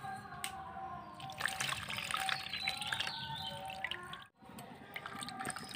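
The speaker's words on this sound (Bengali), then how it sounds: "ঠান্ডা জল দিয়ে পনিরটা ভালো করে ধুয়ে নিয়েছি" Homemade paneer wrapped in a white cloth being rinsed under cold running water, a close trickling and splashing pour with drips, briefly cut off once before the flow resumes.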